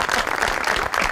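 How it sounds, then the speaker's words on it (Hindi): A studio audience at a comedy show gives a short burst of lively applause. "सनी के लिए तालियां जी।"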